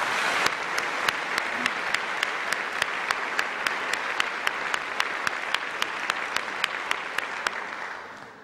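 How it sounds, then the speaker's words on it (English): Audience applause at a university alumni reunion convocation, a dense steady wash of clapping with one sharp, regular nearby clap repeating throughout, tapering off at the end. "I think all of the interns, especially Jordan, deserve a round of applause for a job well done"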